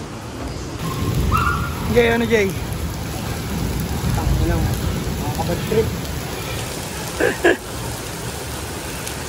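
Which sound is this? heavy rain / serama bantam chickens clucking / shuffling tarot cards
heavy rain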